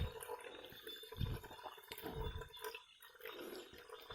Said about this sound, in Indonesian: Akan saya beri air sebanyak, ini saya gunakan air sumur saya saja karena airnya lumayan jernih